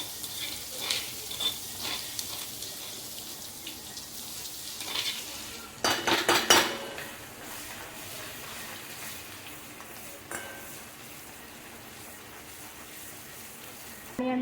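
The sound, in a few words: cumin tempering with garlic masala sizzling, stirred in pan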